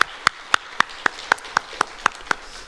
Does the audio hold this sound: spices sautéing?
no